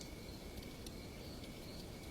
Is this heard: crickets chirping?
yes